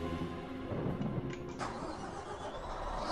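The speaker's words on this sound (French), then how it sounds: "Le fameux groupe électrogène hein, qui te sauve la vie" In the video game Those Who Remain, a power generator cranks over and starts up. A rough, close mechanical churn runs for a few seconds, with no voices over it.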